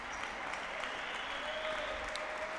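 Audience applauding a basketball player being substituted during a game in a modest crowd, steady sustained clapping at moderate distance, filling the whole moment without pause.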